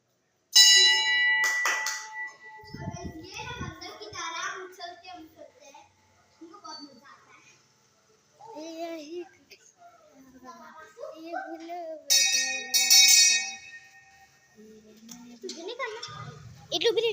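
A ringing bell like a temple bell sounds in two loud bursts, one near the start and one about two-thirds through, with sustained metallic tones, separated by stretches of voices and children talking.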